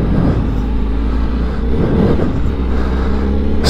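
A 2021 Honda CBR1000RR-R Fireblade SP motorcycle engine runs steadily and loudly up close, a dense continuous mechanical roar with no clear rise in pitch and no voices.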